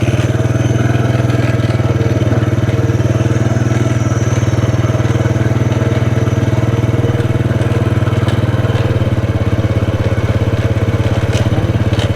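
A motorcycle engine drones steadily and loudly while riding, with a constant low rumble and no pauses.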